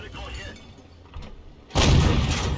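A tank cannon shell slams into a tank in a video game, arriving as a sudden loud, crashing burst of impact noise that follows a quieter stretch of low battle rumble.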